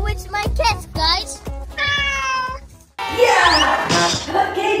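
A pet cat meows in a quick series of loud, close, drawn-out cries, with a longer wailing meow near the end.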